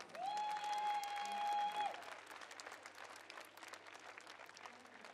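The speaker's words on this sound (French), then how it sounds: "Mais vous pouvez les applaudir bien fort." Audience applause at a group cosplay contest at a Japan-themed festival in Tours, a broad wash of clapping from a crowd that runs under a steady tone early on, then continues more faintly.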